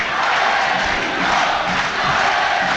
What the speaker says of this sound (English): No, I don't understand what they're chanting.